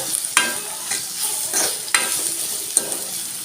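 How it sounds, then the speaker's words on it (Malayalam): Banana stem (Palayamkodan variety) and sprouted green gram being stirred in a pan after salt is added, giving several scraping, shuffling spatula strokes over a soft, steady sizzle, close and clear with no talking. "അതിനുശേഷം നമ്മൾ ഉപ്പ് കൂടി ചേർക്കുക എന്നിട്ട് ഇളക്കി കൊടുക്കുക"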